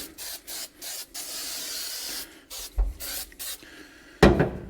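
Short repeated bursts of 3M Super 77 adhesive spray aerosol hissing onto rubberized mat flooring during installation, several quick spritzes with pauses between, close and fairly quiet, ending in a louder handling thump.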